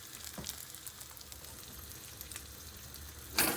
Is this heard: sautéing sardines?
yes